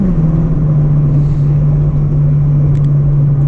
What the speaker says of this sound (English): when you get to like 5K, the VTEC kicks in